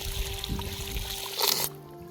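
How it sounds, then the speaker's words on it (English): Muddy water poured out of a pan while washing placer gold dirt at an old mine, a brief wet trickle and splash that swells and then cuts off, with steady background hum. "You just wash it like that and pour it out."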